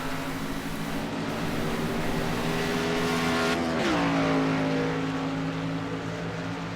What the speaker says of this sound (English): I think I hear him doing a little downshifting.